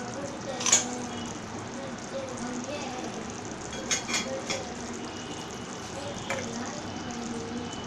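Fish pieces go one at a time into a simmering Tamil fish kulambu, giving soft plops and splashes over a gentle bubbling simmer, with a voice talking throughout.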